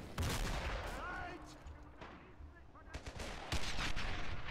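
Mortar and gunfire explosions from the video game Men of War: Assault Squad 2, dense bursts of rapid shots and heavy blasts layered together, loud and continuous, with voices briefly audible amid the battle.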